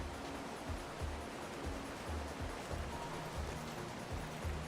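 Steady roar of a waterfall in the fishing video game Hooked, a dense, unbroken wash of water noise with soft low thuds pulsing through it every half second or so.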